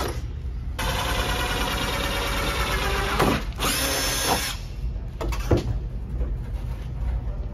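A power drill whirs loudly and continuously, briefly bogging and cutting out as it bites through the sheet-metal body panel of a BMW E36 sedan, then spinning up again.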